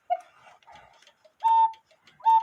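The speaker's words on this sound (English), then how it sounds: "When it's done cuckooing, if the wire is touching the bird's tail" A Hubert Herr cuckoo shelf clock from around 1970–1980 gives two clear two-note cuckoo calls near the end. Before them comes quieter clicking and whirring from the mechanism, and there is no talk.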